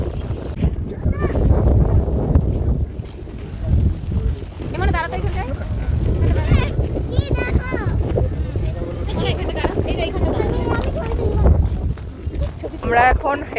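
Strong wind blows at Haldia port's dock complex, buffeting the microphone in loud, gusty low rumbles that rise and fall over the whole stretch, with voices faintly mixed in.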